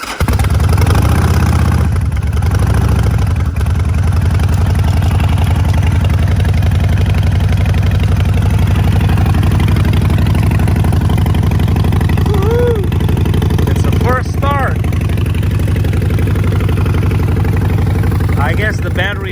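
A Harley-Davidson Sportster 48 with Vance & Hines exhaust cold-starts after winter storage, cranking briefly before catching into a deep, loud, lumpy idle that rumbles steadily throughout, with a few voices talking faintly over it.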